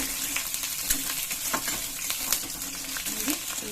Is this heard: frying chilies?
yes